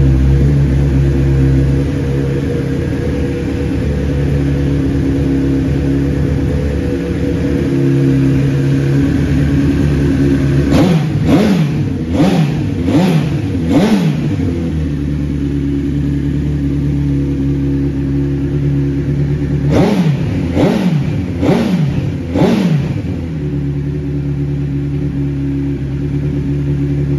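A 2004 Honda CBR1000RR Fireblade motorcycle idles steadily through an aftermarket exhaust, then is blipped in two loud clusters of quick throttle revs that rise and fall before settling back to a steady idle.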